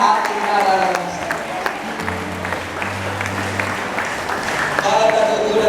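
An audience claps at a religious gathering, and the applause crackles steadily through the whole stretch while someone speaks over it and a low sustained musical tone sounds underneath.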